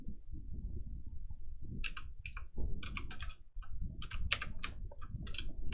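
Bursts of fast clicking keystrokes on a computer keyboard come close and clear, in irregular clusters over a low background rumble, with no talking.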